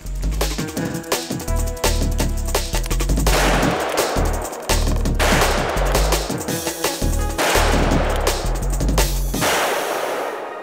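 Big bore revolvers fire heavy, booming shots in rapid succession, loud and close, with overlapping reports and echoes for about ten seconds before tapering off.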